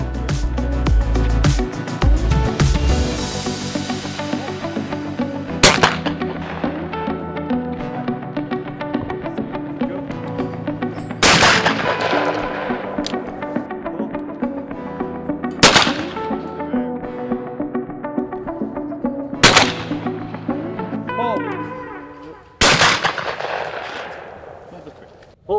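Shotguns fired at trap and skeet on an outdoor range: several sharp, loud single blasts spaced a few seconds apart, each with a ringing decay, over background music and some talk.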